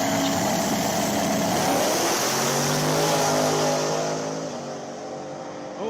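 A drag race car, painted with flames, runs down the track in a 275 radial-tire class event: a loud, sustained engine roar with rising harmonic tones that fades slightly as it pulls away, with no talk.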